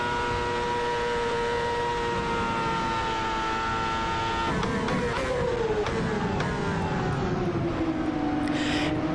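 Race car engine in Assetto Corsa, chasing a Toro Rosso: a steady, high, whining drone with shifting pitch, dropping and sliding as the car slows, close and continuous.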